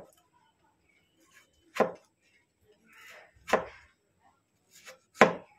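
Peeled potatoes are sliced into finger fries, the knife landing on the board in three crisp, separated thunks with quiet gaps and a faint scrape between, close by and with no speech.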